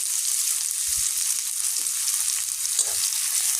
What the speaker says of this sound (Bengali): যেহেতু আমি ডিম দিয়ে আলু দিয়ে রান্না করব, তাই আমি ডিমটা ভেজে নিলাম।